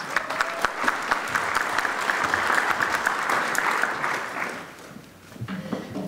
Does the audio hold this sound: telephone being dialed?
no